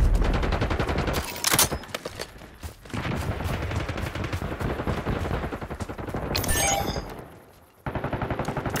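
Rapid automatic gunfire in Call of Duty: Black Ops 6, loud and close, with dense bursts of shots running almost the whole time, briefly thinning midway and cutting off near the end before a short final burst.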